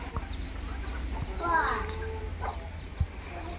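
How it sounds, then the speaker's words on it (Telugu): A chicken clucks nearby in short bursts against a quiet outdoor background, with a person speaking briefly. "సుబ్బు నీ కోడి చూడు"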